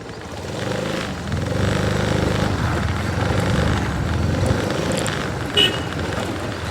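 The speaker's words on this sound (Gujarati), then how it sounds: "આપણે આ કરીએ બાઇક ચાલુ" A mini bike's small engine runs steadily up close, a continuous buzzing drone with a brief louder spike near the end and no voices over it.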